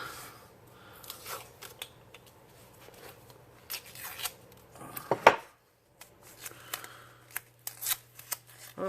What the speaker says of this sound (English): So, what I'm going to do is we're going to tape it off.